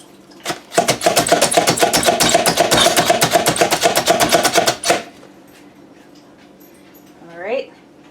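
A food chopper working through food in a long, rapid burst of dense, even chopping for about four seconds, loud and close, then stopping; a short dog whimper follows afterward.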